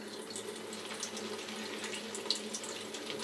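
A tap runs steadily into a sink to wet a shaving soap, a constant close hiss and splash with a few small drips standing out, and no talking.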